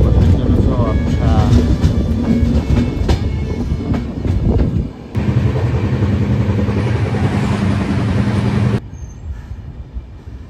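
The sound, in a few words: Uttarbanga Express train running through fog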